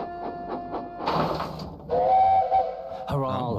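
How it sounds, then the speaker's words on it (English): A steam engine's whistle from Thomas & Friends rings out as a steady, clear, mid-loud tone, with rumbling train and rail noise before it and another burst of sound at the end. "Thomas, the whistle."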